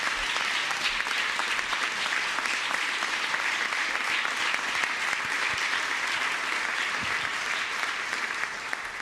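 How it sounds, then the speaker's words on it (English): Sustained, dense clapping from a legislative chamber at the Virginia Capitol during a special session, steady and full for the whole stretch with no talk over it. "Please join me in giving them a round of applause."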